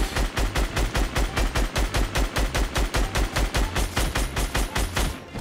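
A SCAR assault rifle fires in Fortnite mobile, a rapid, evenly spaced stream of punchy gunshots at close range that rattles on loudly for several seconds without pause.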